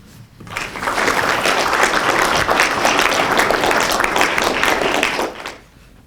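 An audience at a university poetry festival applauds to welcome a poet, with loud, steady, dense clapping that starts quickly, holds for about five seconds, and then fades out.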